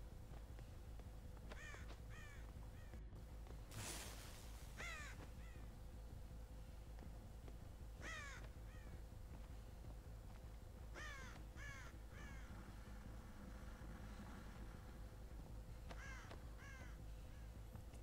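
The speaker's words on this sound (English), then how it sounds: "Why are there birds in here?" Crows cawing in the horror game Dead by Daylight, repeated harsh caws in short bursts of two to four calls spread across the whole stretch over a low ambient hum, fairly faint and no speech.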